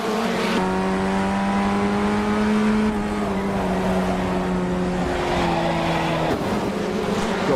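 A Formula 1600 race car with a 1600 cc engine and a 4-speed manual gearbox, driven on the VIR North Course: a loud, steady engine drone heard from on board, its pitch holding, then dropping briefly on gear changes.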